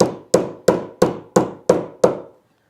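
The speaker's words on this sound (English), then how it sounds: "like to whack the corners a bit." Seven sharp, evenly spaced whacks of a small metal hammer on the corners of a handmade wooden box, each a crisp woody knock with a short decay, close and alone.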